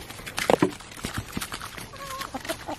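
Backyard chickens cluck and squawk at close range while being handed a morning treat, a few sharp calls rising early, then softer murmuring clucks scattered across the rest.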